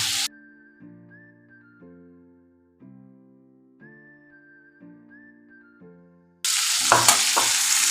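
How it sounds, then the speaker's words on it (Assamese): Calm melodic music plays for several seconds, then pieces of fish stirred in hot oil in a wok burst into loud, close sizzling with a few scraping stirs near the end. "এতিয়া অকণমান এনেকৈ লৰাই দিম এনেই জাষ্ট তেলত মানে কি মাছৰ যিটো কেঁচা কেঁচা ভাৱ থাকে সেইটো নোহোৱা হ'ব"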